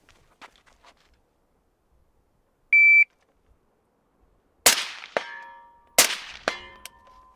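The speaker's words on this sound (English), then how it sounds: "2 shots." A shot timer beeps once, then two rifle shots crack a little over a second apart, each followed by a bright metallic ring from a steel target at an outdoor range.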